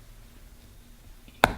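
A USA Kilts Military Day sporran clasp snaps shut with one sharp, close click at the end of a quiet stretch with no talking.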